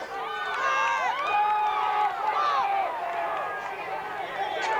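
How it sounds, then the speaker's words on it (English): A crowd cheering for the Broncos football team at a night game, many voices shouting and whooping together in a loud, sustained roar. "give us a cheer and let's cheer these Broncos on to a victory tonight"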